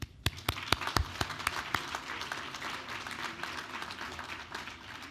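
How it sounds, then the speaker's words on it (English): Warm applause from a gala dinner audience at the Hotel Pierre, opening with a few sharp, distinct claps before swelling into steady, dense clapping that holds at an even level. "all of our non-Jewish friends who have been part of JCRC's fellowships, missions to Israel, many other activities deserve a very warm round of applause"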